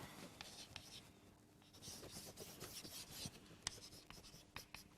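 Chalk or marker writing on a board during a mathematics lecture, faint scratchy strokes and taps in quick bursts against a quiet room.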